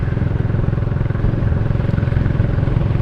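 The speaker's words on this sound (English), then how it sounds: "Don't know if you can hear it thumping away there through the old gold star exhaust." An old single-cylinder Gold Star motorcycle, a 535, thumps loudly and steadily through its exhaust at close range, a deep rapid pulsing beat with light mechanical clatter and no talking.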